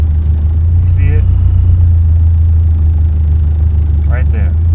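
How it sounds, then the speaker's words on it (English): A manual-transmission car engine holds a steady low idle drone throughout as the clutch nears its catch point, with no clear fall in revs; brief voice fragments break in twice. "I feel the car starting to die now. The RPMs are dropping."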